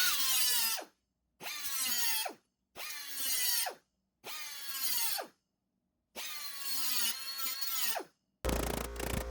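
A power tool makes a small cut in a replacement door skin on a 1966 Triumph GT6, five loud whining bursts with short silent pauses between them, close by.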